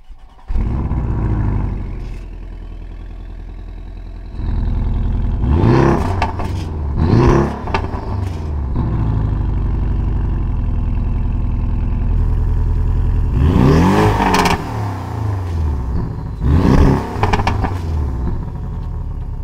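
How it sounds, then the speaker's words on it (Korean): Porsche 718 Cayman GTS with a 2.5-litre engine and rev limiter revving while parked: a steady idle rumble broken by several sharp, loud throttle blips that rise and fall, the last two coming close together. "이렇게 718 GTS 차량까지 배기를 한번 들어봤는데요"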